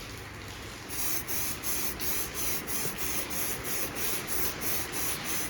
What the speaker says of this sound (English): What we probably should do is spray the can a couple of times first